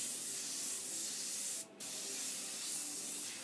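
An airbrush sprays paint onto a t-shirt, making a steady close hiss with one short break near the middle before the spray resumes.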